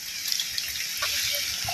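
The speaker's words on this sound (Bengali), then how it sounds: "পানি তো আইতেই আছে আস্তে আস্তে" Rainwater from village fields runs in a steady rushing flow, with a continuous watery hiss and a few small splashes heard close by with no talking.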